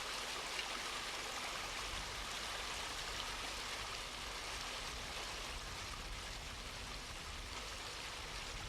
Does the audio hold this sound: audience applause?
no